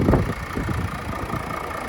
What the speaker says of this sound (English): And here we're greeted with the Mercedes 6-cylinder diesel turbo engine.